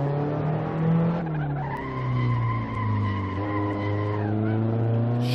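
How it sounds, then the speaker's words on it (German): A race car in Assetto Corsa skids under hard braking on the Magione circuit, a loud sustained tire squeal layered over a steady engine drone that shifts pitch partway through and runs the full length. "Ihr habt es ja gehört, er hat richtig gerutscht"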